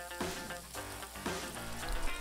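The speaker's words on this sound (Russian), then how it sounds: "кладем жариться репчатый лук. Жарим его минуту, регулярно мешая." A soft, steady sizzle of chopped onion frying in hot oil, with faint scraping stirs now and then; fairly quiet and continuous, no voices.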